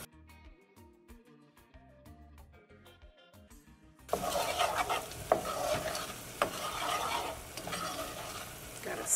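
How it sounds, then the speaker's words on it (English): Onions, peppers and garlic seasoned with salt and pepper sizzle and get stirred in a pan, clattering utensil scrapes over steady frying after a stretch of background music. "So definitely add some salt and pepper to your onions and peppers and your garlic. Mix that up."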